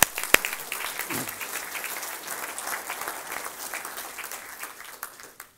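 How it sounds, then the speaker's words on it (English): Steady applause from a summit audience fills the room, a dense patter of clapping that holds evenly for several seconds before tapering off. "I want to give them a round of applause for making it into the programs."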